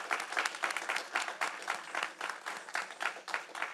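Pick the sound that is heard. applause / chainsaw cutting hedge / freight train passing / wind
applause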